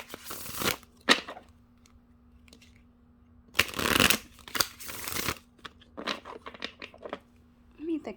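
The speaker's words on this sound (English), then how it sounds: "These are hard to shuffle all at once, so I'll do it separately." Stiff tarot cards are shuffled in several short riffling bursts, close up, with quiet gaps and small rustles between them.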